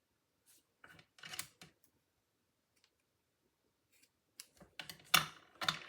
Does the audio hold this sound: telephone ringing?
no